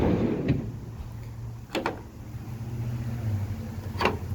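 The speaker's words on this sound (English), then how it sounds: "The drawer operates like that, nice and smooth." A storage drawer on a pickup truck bed slide glides open and shut smoothly, with two brief rumbling slides standing out over a low, steady background hum.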